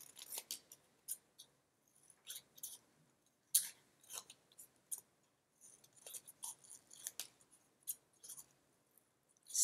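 Scissors snipping through paper to cut out stars for a moon collage, a run of close, crisp short cuts in bursts with brief pauses between them.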